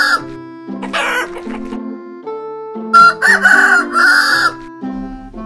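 A rooster in a children's farm-animal cartoon crows clearly, with long drawn-out calls and some clucking mixed in, loud and close, with no voices.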